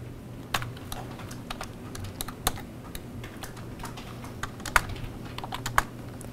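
Typing on a computer keyboard while working in the vim editor: a steady run of light, close key clicks with a few sharper taps, set against a low background hum, with no one speaking.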